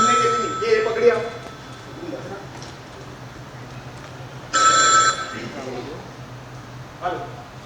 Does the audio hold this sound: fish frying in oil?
no